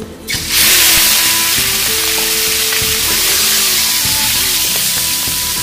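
Field-rat meat hits a hot, salted pan and fries, a loud, close, continuous sizzle that bursts in abruptly and holds steady with crackling pops throughout.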